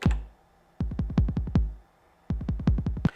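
A TR-909 drum machine plays a kick drum pattern in two bursts of rapid punchy thumps, each hit sharp and booming with a quick decay, loud and alone with no voices.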